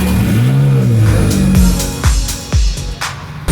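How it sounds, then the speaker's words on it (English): Several cars being shuffled around a lineup at a car meet, engines idling low with a few short throttle blips and revs near by, one after another toward the end. "Just reshuffling some cars here."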